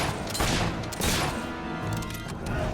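Gunfire in the video game Fable 3 sounds as loud, dense overlapping shots and booms, a rapid volley that fills the whole moment with no talking.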